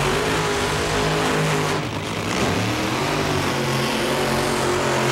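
Two Top Fuel drag racing cars at a 1998 NHRA event produce a loud, continuous engine roar that dips briefly and then swells again, with a harsh, dense rumble and no talk.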